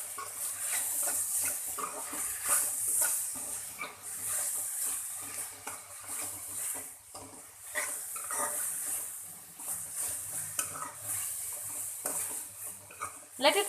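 Ginger garlic paste fries in a pan while being stirred, a continuous sizzling hiss broken by frequent spoon scrapes and light clinks against the pan, close and busy throughout.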